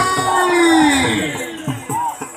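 A crowd at a camel dance competition in Nagaur roars and whoops, loud close cheering and shouting with rising and falling voices rather than distinct claps.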